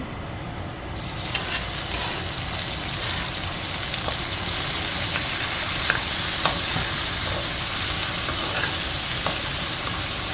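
Carrots, garlic and dried chili sauté in a pan with a steady, close crackling sizzle that starts abruptly after a brief quiet moment and holds at an even level throughout, with no talking.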